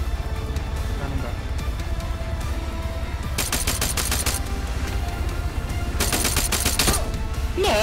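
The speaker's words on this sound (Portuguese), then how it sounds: "Eu dei 50 tiros no cara, o cara me deu um só." Bursts of rapid automatic gunfire in the video game Arma 3, two loud sustained volleys cutting through a constant low engine rumble, near and sharp.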